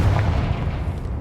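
A Confringo fire spell detonates in the Hogwarts video game, a short, deep, rumbling boom that fades over about a second.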